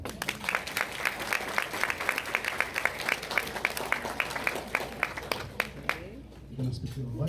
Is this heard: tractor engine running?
no